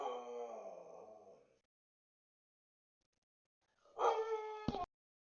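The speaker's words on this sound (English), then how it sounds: "My dog's going nuts." A pet dog indoors howls in a long wavering cry, falls silent for a couple of seconds, then lets out a second, louder howl that ends abruptly with a brief clatter.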